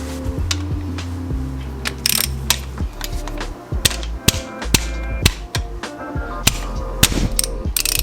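Hand ratchet working a tight 17 mm bolt loose on a Hyundai hybrid transmission, a run of sharp, close metallic clicks and clacks in uneven bursts over a low background hum, with no talk.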